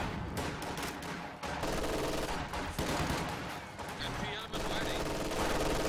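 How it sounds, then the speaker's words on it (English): MG42 machine gun bursts suppressing an infantry squad in a Company of Heroes 2 match, dense rattling gunfire mixed with other battle sounds, continuous and fairly loud throughout. "MG42 suppresses that squad"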